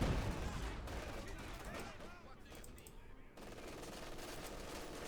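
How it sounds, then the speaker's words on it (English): A field gun fires in the strategy game Company of Heroes 2 amid a noisy, crackling battle, with bursts of gunfire and explosions layered over each other at moderate loudness. "Opening up the field gun there."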